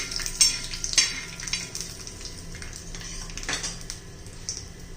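Handful of peanuts frying in oil in a pan, a steady soft sizzle with scraping stirs and a few sharp clinks of a utensil against the pan, close by with no talking.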